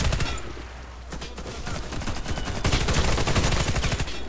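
Rapid bursts of gunfire in the video game Warface crackle continuously, dense overlapping shots growing louder and more intense toward the end, with no talking.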